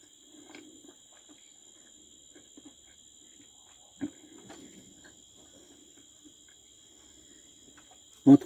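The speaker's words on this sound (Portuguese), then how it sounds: "Tá escutando, gente, o som do grilo?" A faint, steady high-pitched cricket chirp runs throughout a quiet scene, with a few soft thumps and a louder knock at the end.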